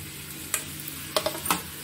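Chopped capsicum goes into a pan of pasta masala frying over the stove, bringing a low steady sizzle broken by a few sharp spoon clinks and scraping stirs near the end.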